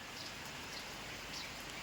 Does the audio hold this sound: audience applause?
no